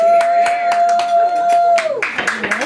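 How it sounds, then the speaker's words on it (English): A few people clap in an uneven, brisk rhythm close by at an 80th birthday celebration, with a sustained tone underneath, then scattered claps and cheering toward the end. "a big round of applause"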